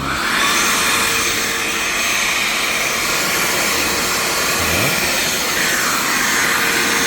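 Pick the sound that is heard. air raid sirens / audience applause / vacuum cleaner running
vacuum cleaner running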